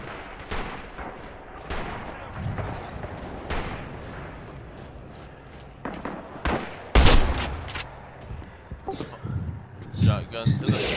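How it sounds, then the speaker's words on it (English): Shotgun and other weapon fire in the WWII shooter Red Orchestra 2, sharp loud blasts scattered among distant gunfire, with someone talking over much of the action. "Shotgun to the face."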